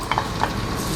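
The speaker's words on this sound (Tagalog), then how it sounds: "Magigisa na tayo ng bawang." Garlic sizzles in hot oil in a pan for a Filipino beef lomi dish, a soft steady frying hiss with a couple of faint clinks, brief and close.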